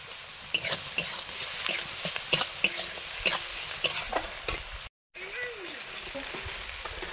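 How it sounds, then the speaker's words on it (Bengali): Finely chopped onions fry in a pan with salt, a steady sizzle broken by repeated clinks and scrapes of a stirring utensil, close and moderately loud; a short dropout interrupts it near the end. "মিহি করে কোচানো পেঁয়াজগুলো একটু দিলাম"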